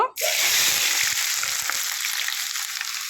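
Onions dropped into hot oil, setting off a sudden loud burst of sizzling that settles into a steady, close frying hiss.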